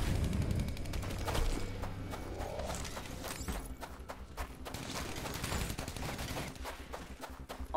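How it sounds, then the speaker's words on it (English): Rapid machine gun fire in the video game Titanfall, dense and continuous bursts blended with game sound effects and loud explosions throughout. "Oh my days, this is a machine gun for fuck's sake"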